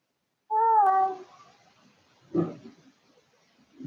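A cat gives one clear, drawn-out meow close by, followed by a couple of soft rustling knocks in an otherwise quiet space.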